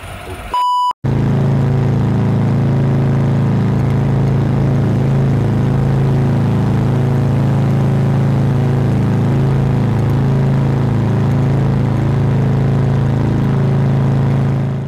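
Harley-Davidson motorcycles cruise on the road toward Tombstone, Arizona. After a brief beep, a loud, steady engine rumble and wind roar continue without a break, with no talk.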